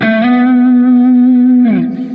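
A single sustained, heavily distorted electric guitar note rings out, then slides down at the end.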